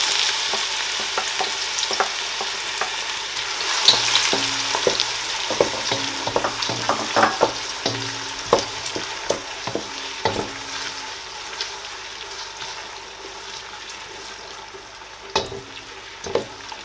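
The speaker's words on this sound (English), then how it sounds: "So I'm going to fry these onions for like 2 to 3 minutes" Diced onions fry in a pan for a Nigerian egg sauce, giving a steady close sizzle with scattered crackles and occasional sharp stirring clicks, and no one speaks.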